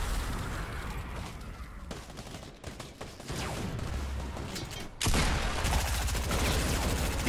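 Gunfire in a Fortnite squad match: rapid, loud bursts of automatic fire and shots continue almost without a break, growing heavier near the end.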